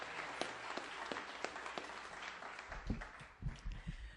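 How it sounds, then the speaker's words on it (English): Rally crowd clapping for a speaker at an autism therapy bill event, a faint, distant scatter of claps that fades as handling knocks and low thumps take over. "Please give her a nice round of applause"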